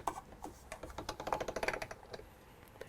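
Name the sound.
polymer clay run through a pasta machine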